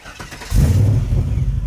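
A 1981 Chevrolet Camaro with an LS V8 swap and MagnaFlow exhaust cranks briefly and catches, settling into a deep, rumbling idle close by.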